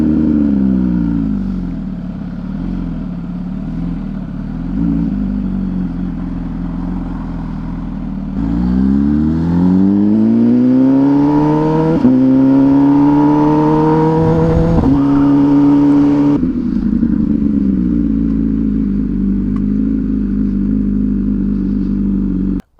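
An MV Agusta SV 1000 motorcycle engine revs hard and climbs through several rising sweeps as the rider pulls away and shifts up, with a loud, close exhaust and no talking.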